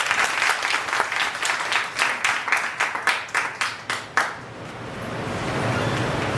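An audience at a training event applauds, a dense burst of clapping that thins into slower scattered claps and fades away.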